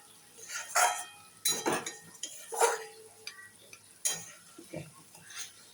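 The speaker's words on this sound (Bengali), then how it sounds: "এইগুলো একটুখানি নাড়াচাড়া করে নেবো, যাতে মশলাগুলো ভালো মতন এর মধ্যে ঢুকে যায়" Spiced bottle gourd greens with poppy seed being stirred in a pan, with a series of irregular scraping and clinking spoon strokes over a soft sizzle, close and moderately loud.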